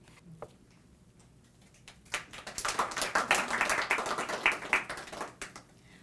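An audience at a poetry reading bursts into steady applause that swells and holds for several seconds and then tapers, with a few isolated claps before it in a quiet room.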